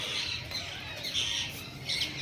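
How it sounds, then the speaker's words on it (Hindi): Parrots squawk overhead in a loose outdoor flock, with harsh, shrill calls rising and fading in several bursts over a steady background hum, fairly close but not loud. "तो भाई इस तरह तोताओं की आवाज़ देख"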